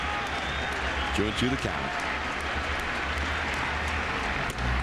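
Crowd at a Tigers–Yankees 2006 playoff baseball game in the stadium, a steady broad roar of cheering and applause running under a play-by-play announcer's talk.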